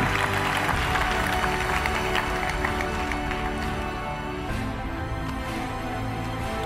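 Steady, dense applause from an audience at a magician's motivational talk, loud and continuous throughout with no talking over it.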